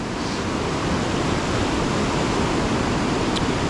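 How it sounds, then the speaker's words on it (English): River rapids at Cucumber Rapids in Ohiopyle, a boulder-strewn stretch of whitewater, roaring as a loud, continuous broadband rush of churning water close by, steady throughout with no voices. "this is the Cucumber Rapids"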